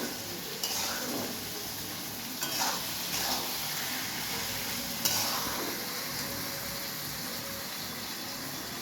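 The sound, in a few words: tomatoes frying in a pan for egg curry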